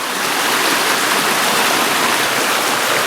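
A mountain stream in the Beskids rushes steadily nearby, a loud, continuous broadband gurgle and hiss of flowing water with no breaks.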